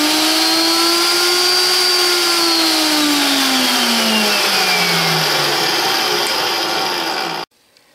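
A VEVOR magnetic drill press spindle spins up with a loud, steady mechanical whine that rises, then slowly drops in pitch as the motor slows over several seconds, cutting off abruptly near the end.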